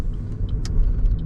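Driving-school car accelerating along a road in Clermont-Ferrand, a steady low engine and road rumble heard from inside the cabin, with a few faint small ticks over it and no talk.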